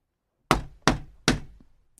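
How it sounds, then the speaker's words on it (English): Three firm knocks on a shop door, evenly spaced and close, each a sharp thud with a short decay, alone in otherwise quiet surroundings. "Finally, he knocked on the shop door."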